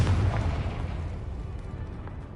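A Confringo spell blast in Hogwarts Legacy, a booming explosion that hits hard at the start and then rumbles and decays over the following seconds, with no talking.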